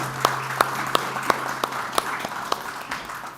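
Audience at a panel dialogue on innovative financing for sustainable development applauding the panelists, steady moderate clapping with sharper individual claps standing out at regular intervals.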